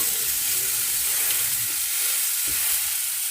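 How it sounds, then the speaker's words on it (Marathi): Surmai kingfish steaks sizzle and crackle steadily on a hot tawa, a dense continuous frying hiss with occasional soft pops and no talking. "मच्छी दोन्ही साईडनी चांगली फ्राय करून घ्यायची."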